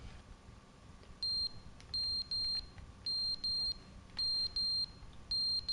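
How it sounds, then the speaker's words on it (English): Repeated high electronic beeps from a smoke alarm in the video game The Stanley Parable, sounding in short paired and single bursts at an uneven rhythm over a faint hum. "Smoke alarm."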